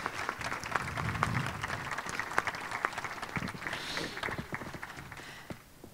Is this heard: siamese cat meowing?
no